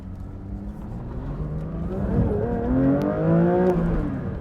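A 2024 Porsche 911 S/T engine revs up, its pitch climbing smoothly and quickly, heard close from inside the car.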